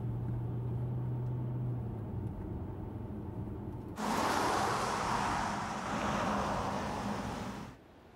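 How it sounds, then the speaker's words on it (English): A 2018 Mercedes S-Class driving on the road, a low steady cabin rumble of tyres and engine that swells into a brighter rushing wind and road roar midway, then drops away at the end. "the vehicle passes the route ahead dynamically, comfortably, or adapted to fuel efficiency"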